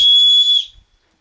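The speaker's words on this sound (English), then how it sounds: "you've got a whistle on the front of your shoulder straps right here on this buckle" A whistle built into the shoulder-strap buckle of a hunting pack gives one sharp, loud, shrill blast lasting about half a second, very close, then quickly cuts off to silence.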